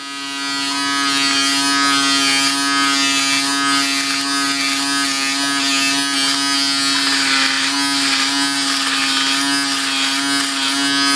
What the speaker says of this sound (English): I'm gonna flip this around and see if flipping it around changes it, because it seems like this other edge might actually cut closer